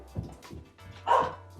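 A dog barks nearby, indoors, during a Warhammer tabletop game of Grey Knights against Chaos Space Marines. One sharp, fairly loud bark rises above the faint background after some soft shuffling sounds.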